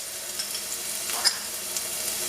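Finely chopped garlic hits hot oil for a red chilli momo chutney, producing a steady, close hissing sizzle with a faint crackle and no voices.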